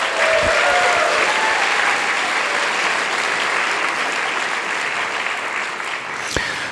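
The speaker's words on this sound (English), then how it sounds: "Let's give them a big round of applause." Sustained audience applause from a large crowd at a pre-race meeting for the Western States endurance run, dense steady clapping filling the room for several seconds, with a faint voice briefly audible near the end.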